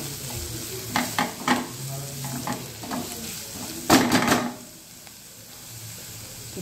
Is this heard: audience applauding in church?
no